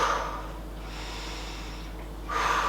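Someone exhales sharply through the nose during dumbbell bent-over rows, two breathy snorting bursts at the start and end with a quieter stretch between, close and alone.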